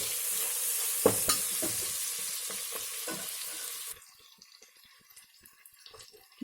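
Chopped onions with a little salt fry in a pan for chicken kofta biryani, a close crackling sizzle with stirring knocks for about four seconds before it drops to a faint, near-silent hiss.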